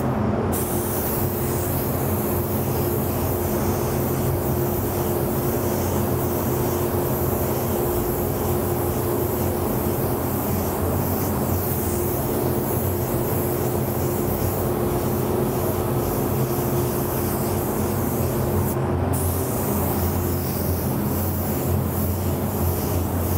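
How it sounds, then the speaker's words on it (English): A steady, continuous hiss of an orange spray paint can coating a bicycle runs for a long stretch, broken by a couple of brief pauses, with a low hum underneath. "I'm gonna start spraying our wicked orange right now"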